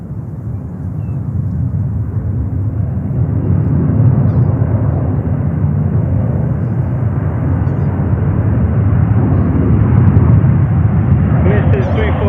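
A Boeing 747 takes off at New York's JFK Airport, its loud, steady jet roar swelling and holding throughout, with voices faintly audible beneath.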